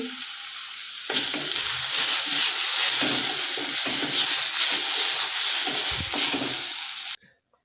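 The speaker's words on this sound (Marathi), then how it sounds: "एक बारीक चिरलेला टोमॅटो घालते टोमॅटो आपल्याला मेल्ट होईपर्यंत परतून घ्यायचं आहे" Finely chopped tomato sautéing in a pan with roasted coconut masala, a steady loud sizzle with frequent scraping stirs that runs unbroken for about six seconds, then cuts off abruptly.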